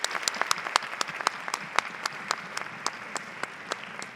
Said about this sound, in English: So can we give them an awesome round of applause?